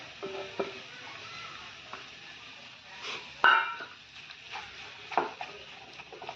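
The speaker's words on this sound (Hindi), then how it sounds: "अब इसमें डाल देंगे हम ये आलू जो हमने बॉईल करके रखे थे। इसे अच्छे से मिक्स कर लेना है हमें" Boiled potatoes mixed into a frying masala in a pan, a soft background sizzle under irregular spoon scrapes and knocks against the pan, close and fairly quiet with no talk.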